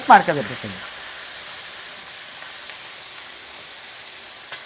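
Onions and tomatoes fry for chutney at a street food cart, a soft steady sizzle and hiss running throughout after a short burst of voice at the very start.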